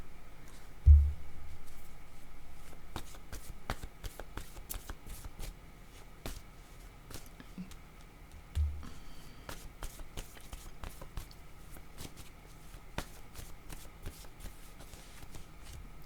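Tarot cards shuffled by hand in a steady run of soft riffling and slapping, with a couple of louder knocks near the start, fairly quiet and close with no talking.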